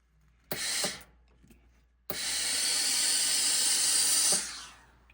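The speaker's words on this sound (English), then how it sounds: "Steam the hell out of this sucker." A steam iron hisses while pressing shirt side seams during sewing. A short burst is followed by a long, steady blast of loud, broadband hissing lasting over two seconds, with nearby rustling of fabric and no talking.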